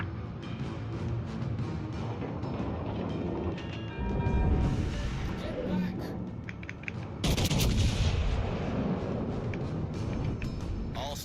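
Warship guns firing in the naval battle game World of Warships, with booming salvos and rumbling blasts rolling over a dense background of battle noise, two louder bursts standing out partway through.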